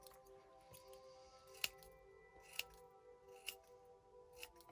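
Scissors snipping excess yarn off a loom-knitted pom-pom, four crisp close cuts spaced about a second apart, quiet between snips.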